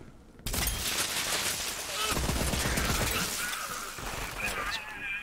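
Rapid pistol gunfire in the shooter game Borderlands 3, a dense burst of sharp shots and crackling impacts running almost the whole time, with a speaking voice over it.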